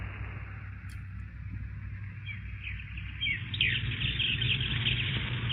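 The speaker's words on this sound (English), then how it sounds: "Tweeting birds." Birds tweet as a sound effect in an old-time science-fiction radio drama, a steady stream of chirps over a constant low hum that grows slightly louder toward the end, with no voices.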